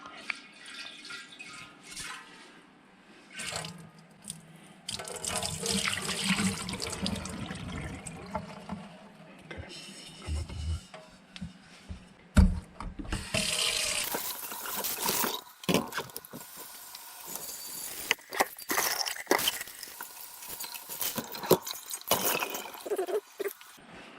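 Wine sediment poured from a bucket into a sink and rinsed out, with splashing, running and trickling water that comes and goes over about twenty seconds, louder gushes in the second half, and occasional clunks of the container.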